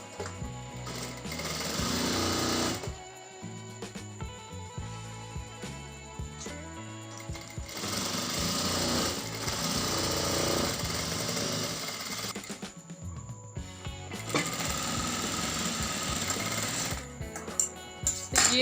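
A sewing machine stitches the seam of a salwar, its rapid needle chatter running steadily at close range with a few short pauses and changes in speed.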